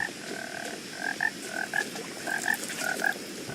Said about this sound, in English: Is that just ambience, or is there actual frogs I can see?